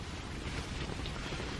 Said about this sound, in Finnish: Se on niin kovaa tuo tuuli.